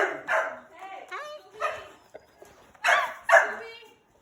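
Several close dogs bark and yip in short, loud bursts with uneven gaps between them in a home setting.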